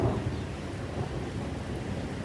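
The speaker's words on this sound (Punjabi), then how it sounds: "ਬੱਦਲ ਹੀ ਬਹੁਤ ਗੱਜਣ ਡੇ ਅੱਜ" Low, continuous rumbling roar of thunder blended with steady, persistent rain, filling the whole stretch without a break or clear peak.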